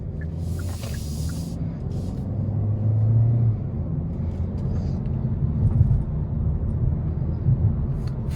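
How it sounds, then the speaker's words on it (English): A 2020 Hyundai Sonata drives on a road, a steady low engine and tyre rumble heard from inside the cabin, smooth and continuous with slight swells. "let's go ahead and take this Sonata on a test drive"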